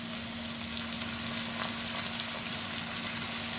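Ivy gourd frying in a pan with ground poppy seed and green chilli paste, giving a dense, continuous sizzle heard up close and steady throughout, with no talking.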